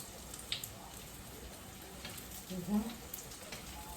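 Onion rings fry in hot oil, a faint, steady sizzle with small crackles and pops throughout.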